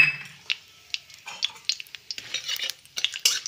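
Whole spices (torn bay leaves, a dried chilli, cumin, cinnamon, cardamom and cloves) fry in hot oil for a Bengali tempering: sharp, close crackles and sizzling pops come in irregular bursts, with occasional light clinks of a stirring utensil and no talk.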